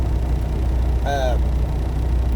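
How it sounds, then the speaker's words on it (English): One short, nasal honk from a vehicle horn sounds in the distance over the steady low rumble of a truck's idling engine. "Somebody over there honking."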